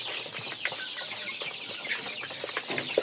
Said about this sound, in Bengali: আমার কাছে এখন 699টি মুরগির বাচ্চা আছে।